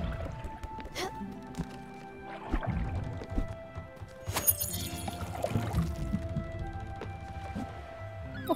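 Plants are watered in the game Spiritfarer, with soft pouring and splashing water sounds and short chimes and clicks from the game interface, all fairly quiet.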